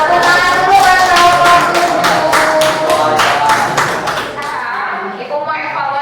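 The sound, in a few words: classroom applause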